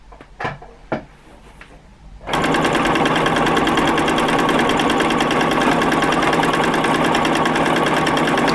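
A few faint clicks and taps, then a sewing machine doing free motion quilting starts and runs fast, a loud, steady, rapid stitching whir that continues to the end.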